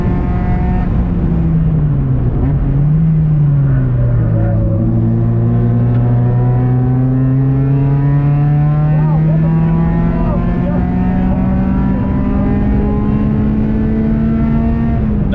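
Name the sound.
race car driving on track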